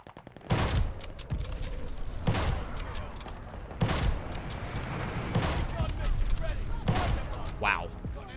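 A Kar98k bolt-action rifle in the game Call of Duty Vanguard fires five loud, sharp shots, one about every one and a half seconds, over a steady rumble of game ambience.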